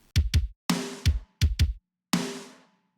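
Kick drum and a layered snare blend of cranked, attack, dry and room snare samples, played as a short pattern of punchy kick hits and ringing snare cracks, alone and dry.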